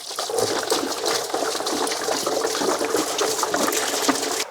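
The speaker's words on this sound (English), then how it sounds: "With some clean water, let's wash all these parts where we had all this coolant flowing." Clean water rinses coolant-soaked engine parts on a Mercedes CLS during a water pump replacement: a steady, close hissing splash of running water that lasts the whole stretch with no talk over it.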